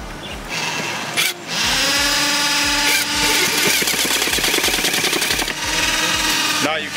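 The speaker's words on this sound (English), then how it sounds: "So we're going to screw right through the liner, hold it flush to the top." A power drill drives drywall screws through a decorative concrete step liner, with loud whirring bursts that rise and stall in several pulses, separated by short pauses, while someone speaks.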